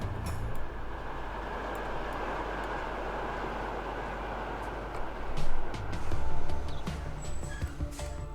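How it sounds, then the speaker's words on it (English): An electric train in the video game Transport Fever 2 gives a steady, loud rolling rumble for about eight seconds, with a couple of brief swells near the end. "does that sound better than the default electric train noise?"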